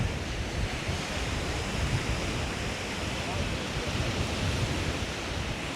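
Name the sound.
strong wind at Loch Ness beach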